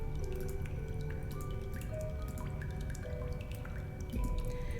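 Hot water trickling and dripping through a pipe in the adventure game Darkside Detective, a steady close run of drips and watery plinks over a constant low hum, with no talk.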